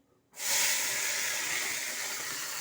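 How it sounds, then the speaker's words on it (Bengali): Pointed gourd paste, blended with some potato, hits hot tempering spices in a pan, setting off a sudden loud hiss that holds steady and slowly eases. "আমি এই পটলটা মিক্সিতে ভালো করে পেস্ট করে নিয়েছি, সঙ্গে একটু অর্ধেক আলুও দিয়ে দিচ্ছি, একটু টেস্টি হবে। এবার আমি ফোড়ন দিয়ে দেবো।"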